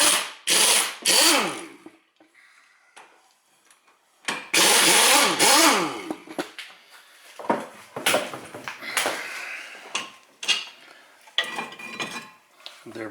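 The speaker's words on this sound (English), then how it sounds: "you can use power tool to take it out" A power tool whirs in several short bursts removing a cross-threaded bolt during front brake work on a Subaru Legacy GT, each burst ramping up and winding down, separated by metallic clinks and pauses.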